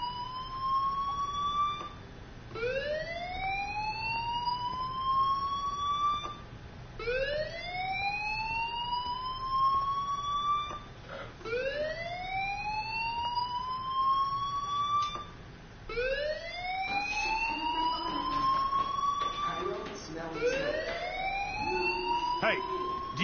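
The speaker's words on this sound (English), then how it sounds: "do you hear that fire alarm?" A fire alarm sounds loud and close in a repeating cycle of rising wails, each sweep climbing and holding, with a voice briefly heard near the end.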